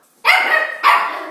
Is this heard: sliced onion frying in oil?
no